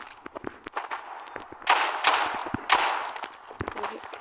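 Gunfire in a video game crackles as a rapid scatter of sharp shots and bursts, with a couple of heavier, louder blasts partway through, fairly loud and without talk.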